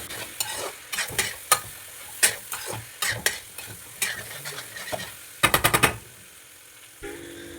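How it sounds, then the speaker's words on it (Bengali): Chicken curry masala with onions is stir-fried in a pan: repeated sharp spatula scrapes and clacks in an uneven rhythm over a soft sizzle, including a quick rapid run of strikes near the end. "কিছুক্ষণ ভালো করে কষিয়ে নেব"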